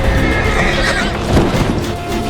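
A horse whinnies loudly and close at hand during a violent shooting, with a dense, harsh neigh that fills the moment and no clear separate gunshot.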